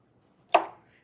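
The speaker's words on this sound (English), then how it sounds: "we're just going to chop up and put it right into the blender" A knife chops through a stalk of celery for a smoothie in a single sharp, close cut on a board, with near silence before and after.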